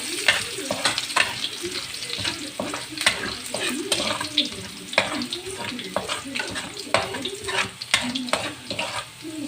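Garlic sautéing in oil left from frying potatoes and sweet potatoes, a loud close sizzle broken by frequent scraping and stirring clatters, no talking.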